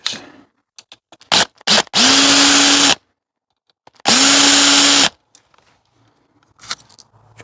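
A power tool loosens screws while stripping scrap, giving two loud, close whirring bursts of about a second each, separated by quiet gaps with light clicks and handling noises.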